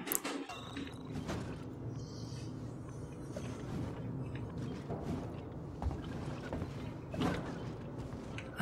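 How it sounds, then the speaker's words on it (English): A noisy floor creaking underfoot in the video game Alien Isolation, with a low mechanical hum beneath it and slow metallic creaks and groans. Each footstep adds a soft knock. "And this is a noisy floor"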